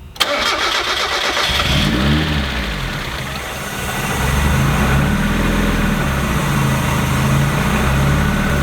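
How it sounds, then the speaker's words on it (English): A supercharged, lifted Mazda Miata engine cranks and fires up at close range, then settles into a loud, steady idle with a rough, uneven rumble and no voices. "It took a little bit to idle, but that's all right."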